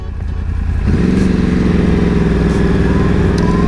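Yamaha R1 motorcycle ridden on the road in Singapore, its engine droning steadily and climbing slightly in pitch after a brief rise, with wind rushing throughout.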